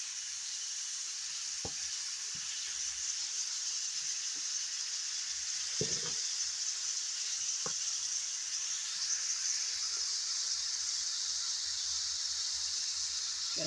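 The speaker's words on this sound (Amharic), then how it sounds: "ካሮቱ ላይ ጎመን ጨምሬ" Cabbage and carrots sizzle steadily in a pan, with the occasional soft scrape and tap of stirring under the constant frying hiss.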